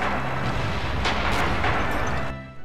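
A satchel charge goes off in the World War II shooter Red Orchestra 2, a loud, heavy blast with a rumbling tail. Sharp cracks of gunfire punctuate it before it fades out abruptly.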